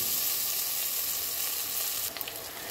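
Spice paste with green chili frying in hot oil, a dense, steady sizzle that stays loud and continuous, with a few small clatters of stirring near the end.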